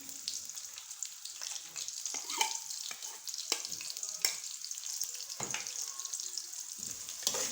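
Onions frying in hot oil with cumin seeds for a beef liver masala, a steady close sizzle with light stirring clicks and scrapes running throughout.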